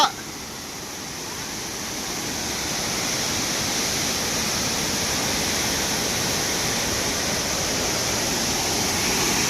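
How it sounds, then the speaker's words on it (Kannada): Kailasa waterfall in Chamarajanagar district, Karnataka, gives a constant, close roar of rushing water that stays steady and loud throughout, with no voices. "ಇದೊಂದು ಕೈಲಾಸಗಿರಿ ಒಂದು ಅದ್ಭುತವಾದ ಸುಂದರವಾದ ಒಂದು ಜಲಪಾತ"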